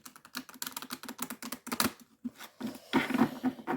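A deck of playing cards being shuffled during a card reading, heard as quick rapid riffling and snapping bursts close by, pausing briefly midway before another flurry.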